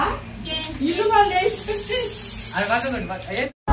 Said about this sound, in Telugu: స్ప్రే కొట్టు